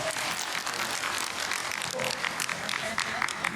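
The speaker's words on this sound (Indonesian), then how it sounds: "Tepuk tangan dulu dong." A crowd of mosque congregants applauds, a dense and fairly loud patter of many clapping hands that continues throughout, with voices mixed in.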